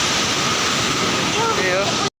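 Water pours steadily at the Sepli waterfall in Okhaldhunga, a dense, continuous rushing roar heard close and loud, with a faint whistle-like tone partway through before the sound cuts off abruptly.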